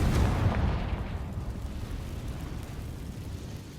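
A Confringo blasting spell explodes in the Hogwarts Legacy video game, a loud booming burst at the start that rolls off into a long, low rumbling decay with no voices over it.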